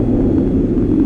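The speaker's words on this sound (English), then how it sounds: "Gears coming out." Cabin of a Citation 550 business jet in X-Plane 11 as the landing gear extends, heard as a loud, steady low rumble and engine drone that holds evenly through the moment, with no speech over it.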